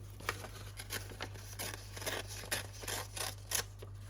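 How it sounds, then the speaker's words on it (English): A little edge is torn off a paper book page up close, heard as a series of short, crisp rips and rustling crackles spaced irregularly, with a steady low hum underneath. "How about I tear this little edge off this piece of paper?"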